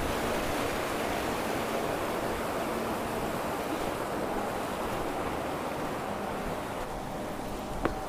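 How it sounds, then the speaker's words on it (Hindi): Snowmelt water rushes down from above beside a small stone-path bridge on a rugged Ladakh mountain trail, a constant loud roaring wash that continues unbroken with no voices. "ये देखिए ऊपर से बर्फ़ का पिघला हुआ पानी आ रहा है"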